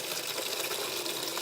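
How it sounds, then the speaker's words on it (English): Water runs from a tap onto items being rinsed, a steady gushing splash heard close up with no talk. "I'm just going to start rinsing these out now."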